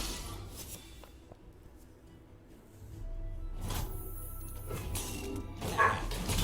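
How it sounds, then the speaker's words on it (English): Dogs bark in short yips and bow-wows against a quiet room, the barks faint at first, then a few louder bursts toward the end. "Apologize for the dogs."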